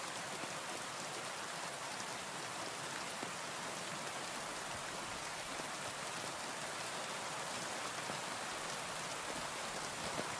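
Steady, dense rain hisses evenly on surfaces in the game Kingdom Come: Deliverance 2, a soft, constant downpour with no other sounds.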